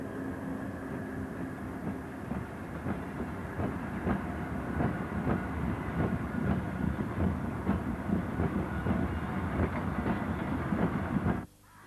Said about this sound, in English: 76010 heads another rake of merry-go-round wagons towards Guy Bridge.